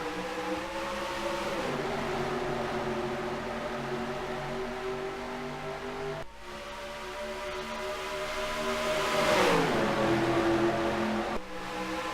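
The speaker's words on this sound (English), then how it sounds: "Tristan Allen, Jesse Turner, we're coming to the green flag." Engines of race cars in a racing video game at a green flag start at Las Vegas, a loud sustained multi-engine drone with pitch sweeps as cars accelerate, a brief break near the middle, no talk.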